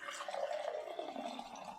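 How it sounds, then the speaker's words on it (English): Dark liquid stevia sweetener poured out, a short soft trickle and drip of thin liquid, faint and close, with no talking. "So I'll pour it down just for you to see"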